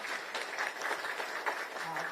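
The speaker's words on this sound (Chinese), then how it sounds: "我们给他热烈鼓掌" Applause from an event audience for KMT chair Cheng Li-wun at a temple gathering: steady, dense clapping sustained throughout at moderate level, with a faint crowd murmur beneath.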